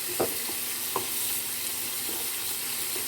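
Pork, chicken and rice fry in a pan, giving a steady sizzle while a utensil stirs and scrapes through the food in a few distinct strokes, close and clear with no talk.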